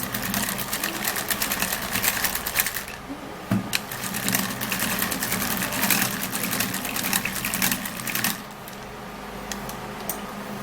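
A manual mixer whirs steadily and loudly, close up, while blending a rice face mask, then cuts to a lower, quieter run near the end.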